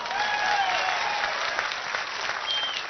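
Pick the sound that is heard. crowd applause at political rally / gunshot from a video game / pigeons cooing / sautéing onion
crowd applause at political rally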